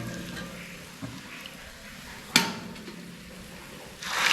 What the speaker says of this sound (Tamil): ஃபஸ்ட்டு நம்ம ப்ரெட்டை ஃப்ரை பண்ணிடலாம்